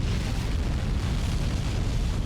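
A rocket launches in Kerbal Space Program 2 with a dense, steady roar of engine thrust, loud and continuous throughout with no speech over it.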